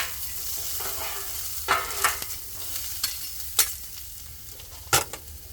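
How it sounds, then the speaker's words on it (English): Food sizzles on a griddle, mushrooms and celery, with steady frying hiss and sharp scraping clacks as two metal spatulas stir and chop, close and without talk. "if you don't have two spatulas, you're really not griddling"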